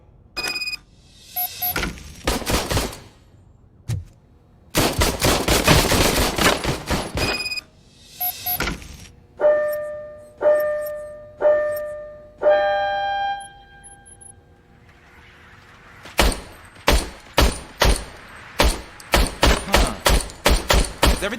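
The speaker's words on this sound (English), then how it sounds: "I was issued this old gun and serviced it according to the manual. I will try it out." An old, faulty police service gun fires in Robocop Rogue City: bursts of rapid shots and single cracks mixed with electronic beeps and tones, loud and close, ending in a quick run of repeated shots.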